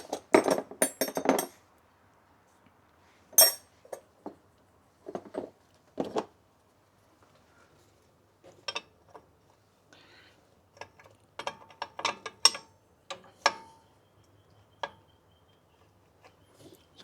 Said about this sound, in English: now we undo the other union, or the bottom half from the actual wheel cylinder that's obviously at the front here